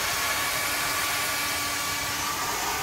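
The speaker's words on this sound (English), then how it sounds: "Now I did something new with my hair dryer." A hair dryer fitted with a small nozzle attachment blows steadily on wet acrylic paint during a Dutch pour, a loud continuous broadband whoosh with a faint whine, alone without talk for the whole stretch.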